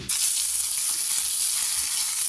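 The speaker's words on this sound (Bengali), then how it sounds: "আমি এতে একটা তেজপাতা দিয়ে দিয়েছি। এখন আমার এটা ভাজা হয়ে এসছে।" A bay leaf sizzles in hot oil in a pan for a mango and grape chutney, a steady close hiss of frying that runs alone and unbroken for a couple of seconds.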